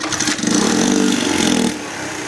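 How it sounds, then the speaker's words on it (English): A 1981 Honda C70 Passport motorcycle engine fires up and revs with the throttle held open, a loud, close buzzing run lasting about a second before settling back. "It'll rev up when it first starts if you hold the throttle open."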